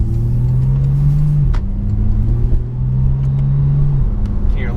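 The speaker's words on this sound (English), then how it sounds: "A little bit of the turbo noise coming in" A 2016 Porsche 911 Turbo S driving on the road, its engine droning loud and steady as it rises in pitch through the gears, with quick shifts and a faint turbo whoosh.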